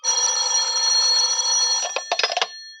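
Telephone ringing in an old radio drama, a loud, close, sustained electric bell that rings continuously, then breaks into several short, clipped bursts before stopping.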